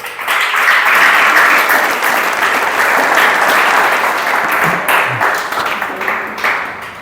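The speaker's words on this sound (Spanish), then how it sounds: "denle un aplauso al Señor entonces" A church congregation applauds for the Lord, a dense, steady wash of clapping that holds loud and even for the whole stretch without a break.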